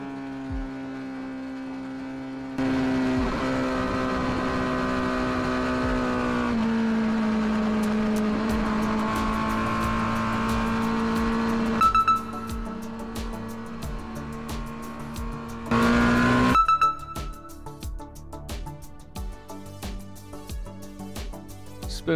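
A race car laps the Suzuka Circuit through the Spoon corner. The engine drones near and steady, shifting pitch with throttle and gear changes, and sharp rises mark hard acceleration out of the bends.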